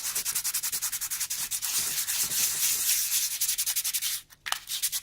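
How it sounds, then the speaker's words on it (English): A piece of card being roughly sanded and scraped, producing rapid, close, rhythmic rasping strokes that continue steadily, with a brief pause near the end before a few more scrapes. "Roughly sanded, scraped up."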